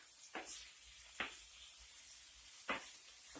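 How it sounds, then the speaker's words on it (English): Beef chunks browning in a hot pan for stew give a steady, fairly close sizzle, broken by three or four sharp stirring scrapes at uneven intervals. "So what I'm doing is I'm browning the beef."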